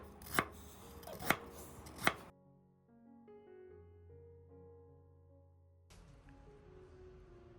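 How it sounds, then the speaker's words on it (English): A knife chops ginger into thin strips, giving three sharp, close, evenly spaced strikes on a board before the chopping stops and soft tonal background music takes over. "Cut the ginger into fine, thin strips to bring out its fragrance without being overpowering."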